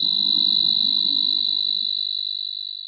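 A single continuous high-pitched electronic alarm tone from an appliance tester, warning of a wiring fault in the 240 volt mains supply, sounds steadily for a few seconds, loud and close, fading slightly toward the end.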